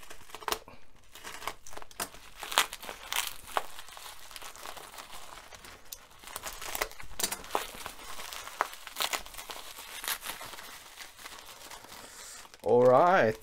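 Package bound in lots of tape being unwrapped: scattered crinkling, tearing and rustling bursts, ending in a brief sharp rip of tape.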